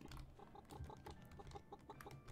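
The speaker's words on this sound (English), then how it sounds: "The other two chickens." Chickens in a farming video game cluck in quick repeated bursts, several soft pecking clucks overlapping at low volume.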